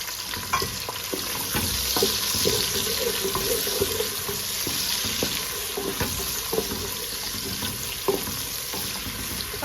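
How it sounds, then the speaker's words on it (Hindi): Medium-sized sliced onions fry in a hot pan, producing a loud, steady, close sizzle with a hissing wash and scattered light clicks and scrapes from stirring. "अब हम इसमें ऐड करेंगे प्याज, जो मैंने रोस्ट काट लिए थे दरमियाने साइज के।"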